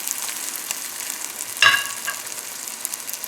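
Pork cutlets for pork paillard frying in a hot pan, a steady close sizzle with one brief louder crackle partway through, no talking.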